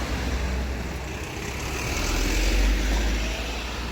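Vehicles pass on a street in the early morning, a broad low roar that swells and fades, loud and close for the whole stretch with no voices.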